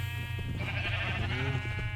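Sheep bleating in the video game Minecraft, mixed in with other farm animals crowded into a pen beside a wool farm; a couple of short wavering bleats sit over a steady low background hum.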